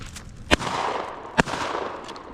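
Two sharp shotgun blasts during a spruce grouse hunt in Alaskan woods, about a second apart, loud and near over steady outdoor background noise.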